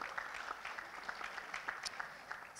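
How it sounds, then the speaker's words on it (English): Faint, fairly sparse applause from an audience at the official launch of a university overseas centre in Jakarta, with distinct individual claps pattering for a couple of seconds. "A warm round of applause for Ibu Shinta."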